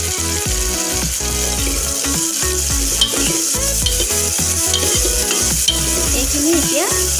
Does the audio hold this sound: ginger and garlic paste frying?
yes